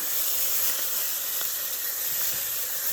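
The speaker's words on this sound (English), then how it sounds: "we have our oxtail going into our pan now" Oxtail sears in a hot pan with a steady, loud sizzle and hiss that holds throughout, with no voices over it.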